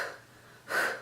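A pregnant woman breathes heavily as she catches her breath, two close, airy breaths with the second louder and sharper, with no words spoken.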